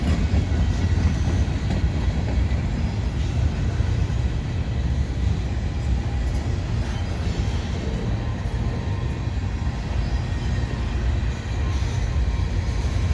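A westbound CN transfer train led by switcher locomotives rumbles steadily past at Argenson Park, a continuous heavy low roar with faint rhythmic clatter, close and loud throughout.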